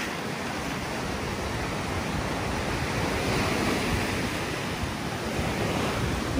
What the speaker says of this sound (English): the waves taking our sand away